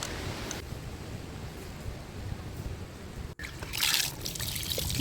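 Cut fish for a fish curry being washed in water, a steady close trickle and slosh with rustling handling, swelling briefly louder toward the end.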